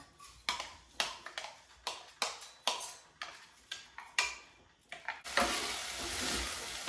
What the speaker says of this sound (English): I'm just kind of sauteing the rice until it gets kind of toasted